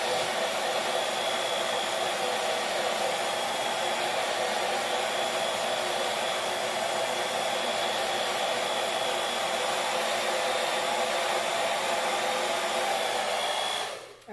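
Constant loud whoosh of a heat tool drying a craft transfer layer, steady and close throughout before cutting off abruptly at the end.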